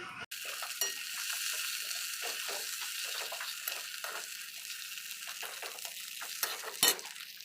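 Ghetkol leaf paste fries in oil in a wok with a loud, continuous sizzling hiss, broken by occasional scraping touches and a heavier clank near the end.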